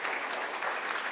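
An audience claps for presenters at an animation workshop, giving a dense, continuous patter of many hands that holds steady for about a second without pause.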